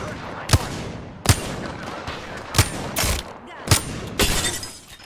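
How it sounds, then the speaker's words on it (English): Enemy squad gunfire in a shooter video game: five sharp, loud shots at roughly even intervals with a couple of longer bursts between them, all over a dense background of game noise. "They're shooting at me."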